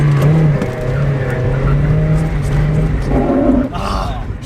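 A Mazda Miata drifts on a rain-soaked surface, its engine holding a loud, steady roar that swells near the end, with a rubbing tire adding grinding texture and a voice talking briefly over the run.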